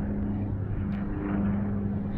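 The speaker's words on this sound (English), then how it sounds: "Look, a plane." An airplane passes overhead as a continuous low, distant engine drone near mangroves and warm shallow water, with no talk.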